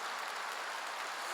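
A church congregation claps loudly during a Korean worship service, a dense and steady roar of applause filling the whole moment without a break.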